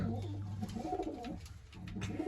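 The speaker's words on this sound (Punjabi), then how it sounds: "ਇਹ ਆਪਣੇ ਹੀ ਕਬੂਤਰ" Pet pigeons coo in a low continuous murmur, fairly faint and close, with no voices.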